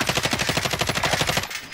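Rapid automatic gunfire from a video game rattles out as one loud, continuous burst of evenly spaced shots that stops abruptly just before the end.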